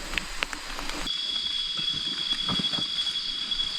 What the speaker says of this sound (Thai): โอ้ยฝนเนาะ